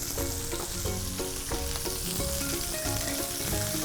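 Beef tenderloin steaks sear in a hot pan with a steady, dense sizzle and crackle that runs the whole time at an even loudness, with no talking.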